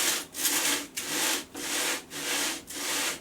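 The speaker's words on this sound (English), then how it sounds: "with a sanding block, holding it as vertical as possible, just gently sand the ends." A sanding block rubs back and forth across the end of a piece of balsa wood in about five even strokes, close and soft with no talking.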